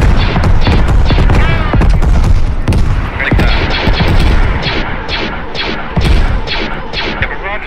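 Dense video game artillery barrage and gunfire pound close and loud, with rapid overlapping blasts, crashes and booms in a relentless stream, while players talk underneath.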